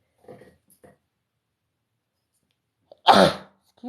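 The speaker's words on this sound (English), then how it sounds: "Oh no, I feel a sneeze coming" After a few faint sounds and a stretch of silence, one loud, sharp sneeze bursts out close to the microphone indoors.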